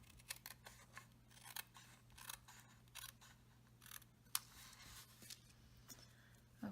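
Paper snips trim the overhanging edges of card stock on a gate fold card, a steady run of sharp, close clicks and cuts at a quiet level with no talking.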